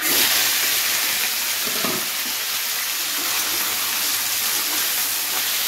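Small cut potato pieces fry in hot oil with a pinch of asafoetida and salt, a dense steady sizzle and bubbling that stays loud throughout with no talking.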